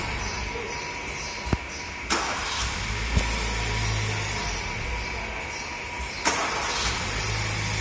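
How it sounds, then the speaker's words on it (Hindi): A car with a previous starting problem fires up on a single crank of its self starter, then idles in a steady mid-pitched hum broken by a few sharp clicks and thumps. "गाड़ी मेरा पूरा एक सेल्फ में स्टार्ट हो रहा है"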